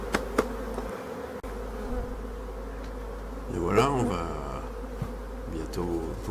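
Honey bees swarm and buzz around a Voirnot hive during a hive body change at an apiary, a steady low hum holding throughout, with faint voices and a few knocks underneath.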